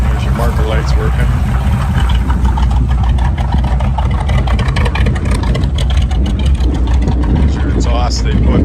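An old truck engine runs steadily nearby with a loud, low rumbling idle, and people talk over it.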